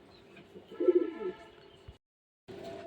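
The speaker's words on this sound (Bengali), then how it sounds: "এক পেয়ার টপ ক্লাস কোয়ালিটির মধ্যে গ্রিজেল কবুতর, গ্রিজেল রেসার কবুতর।" Grizzle racing pigeons coo in a soft, low burst near the middle of a short, quiet stretch of room sound, broken by a brief silence before faint background noise returns.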